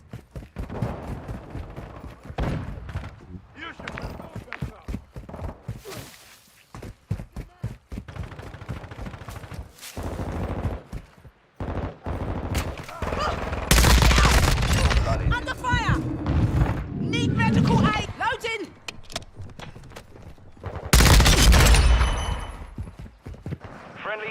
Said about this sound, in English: Oh, this guy is shooting.